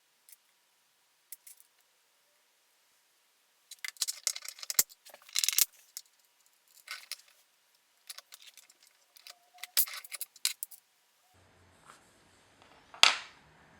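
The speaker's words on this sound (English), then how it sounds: "now I'm going to punch out the middle of the cup" A punch is forced through the bottom of a small gold cup: scattered sharp metallic clicks and scraping taps come in short bursts, separated by near silence, ending in one louder clank.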